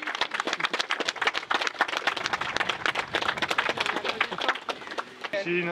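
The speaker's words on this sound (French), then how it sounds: "Je crois qu'on peut les applaudir tous les deux" A crowd claps in sustained, lively applause that continues evenly and fairly loud throughout.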